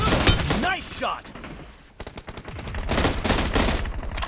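Rapid gunfire bursts from PUBG Mobile team deathmatch combat, loud close volleys of shots, a brief lull near the middle, then more sustained firing, with game voice chatter mixed in.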